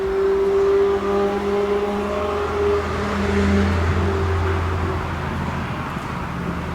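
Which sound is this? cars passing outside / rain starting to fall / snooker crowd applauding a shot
cars passing outside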